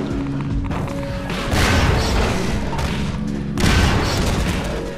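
Explosions boom in the Half-Life 2: Episode 2 video game: dense, loud, crashing blasts, with a second surge a couple of seconds after the first and rumbling debris between.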